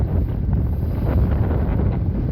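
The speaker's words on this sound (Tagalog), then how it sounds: "malakas ang hangin, malalaking alon" Strong wind roars steadily by the sea near a low island, with gusting buffeting across the microphone and a constant dense rush throughout, no talk.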